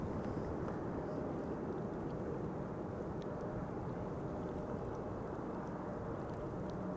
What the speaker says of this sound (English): There's the Iceland Air Max 8 in the background